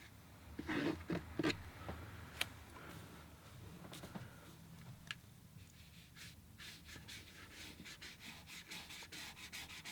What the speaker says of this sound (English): I'm just going to do some quick scratches here for the hair.